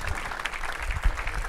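An audience at a rowing championship podium in Gravelines applauds with dense, continuous clapping at a steady level throughout.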